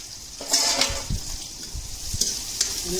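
Cumin seeds, onions and green chillies fry in hot oil with a steady sizzle, broken by a few scraping stirs of a spoon in the pan, close and moderately loud.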